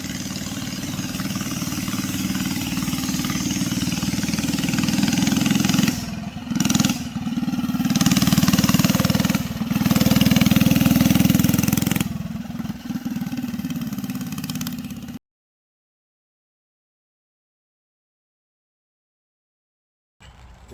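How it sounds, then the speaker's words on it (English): Motorized Razor scooter engine running during a test ride, a loud, steady buzzing drone with a few brief dips in pitch and level, then cutting to silence before a short return at the end. "We're testing out the Razor scooter."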